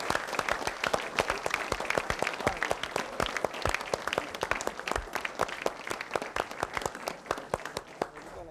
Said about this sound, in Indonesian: kita berikan tepuk tangan yang meriah untuk pemirsa